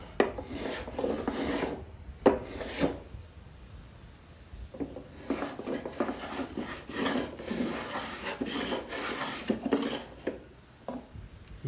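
Hand rasp filing the chamfered edge of a piece of wood to round it, heard as bursts of coarse rasping strokes in irregular runs with brief pauses, close and fairly loud, no talking.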